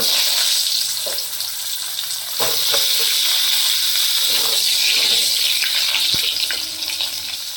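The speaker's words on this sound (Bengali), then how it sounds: "তো এখন ওই তেলে আলুগুলোকে ভেজে নেব" Potatoes frying in hot oil for chicken curry, a loud, dense continuous sizzle with a few clinks of stirring, close up and without speech.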